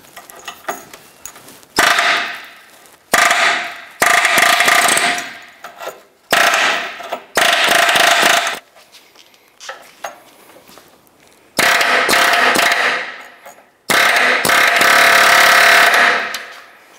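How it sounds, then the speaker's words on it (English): Air chisel hammering around the edge of a front forward subframe bushing on a 2008-2013 Nissan Rogue, fired in loud, close bursts of a second or two, separated by brief pauses. "I'm going to use an air chisel around the edge here to work this bushing up and out."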